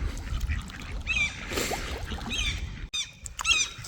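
Ducks quack repeatedly while being fed outdoors in Sweden, with a seagull nearby, their nasal calls clear over a constant rushing background of wind or water.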